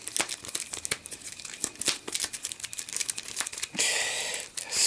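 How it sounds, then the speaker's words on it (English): Print-and-play cards for a solo siege card game get a brisk hand shuffle. The clip is full of close, rapid papery snaps and crinkles, ending in a longer riffling burst. "So give them a good shuffle like so."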